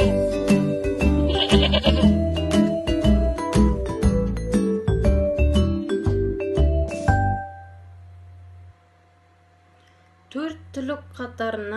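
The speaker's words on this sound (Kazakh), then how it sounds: "Қой маңырайды." Sheep and goats bleat in a run of repeated calls that are close and loud. A near-silent pause follows, then a few more short calls or voices at the end.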